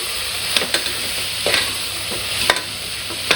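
Biryani mixture for chicken biryani, made in a pressure cooker, is stirred over a low flame, with a soft steady sizzle under several sharp scrapes and clacks of a spoon against the pan, near and fairly loud.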